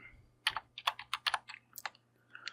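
Quick bursts of clicky keystrokes on a computer keyboard, close and quiet, tapped in an irregular rhythm with short pauses over a faint low hum.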